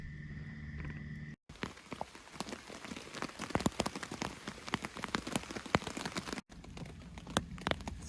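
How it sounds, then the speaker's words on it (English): Steady rain patters on leaves and surfaces in the woods at night beside a dying campfire, a dense continuous hiss of close drops with scattered louder splats, briefly cutting out twice. "I didn't know it was gonna rain tonight."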